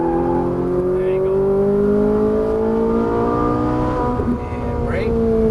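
A Ferrari 458 Italia V8 revs up hard on a race track, its rising engine harmonics climbing smoothly as it accelerates out of a corner, loud and close, heard from inside the car.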